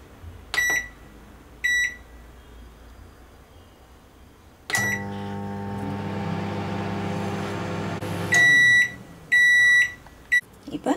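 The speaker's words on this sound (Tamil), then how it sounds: "30 நொடி வந்து நம்ம வச்சு மைக்ரோவேவில் வச்சு எடுத்துக்கலாம்" A microwave oven hums steadily on high power for about thirty seconds while cooking chutney ingredients, bracketed by sharp electronic beeps from its keypad before starting and a series of beeps when it stops.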